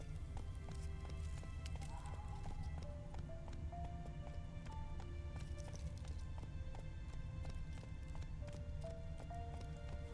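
Roach, a horse in a video game, gallops with rapid, continuous hoofbeats and short whinnies, set over a quiet background of steady tonal game music.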